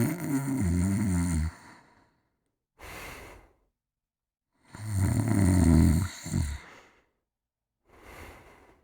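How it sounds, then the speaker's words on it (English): Loud, heavy snoring from a wolf asleep in a bed in a fairy-tale scene, with two long rasping inhalation snores each followed by a shorter, fainter exhale and pauses between. "fell asleep, and began to snore very loud"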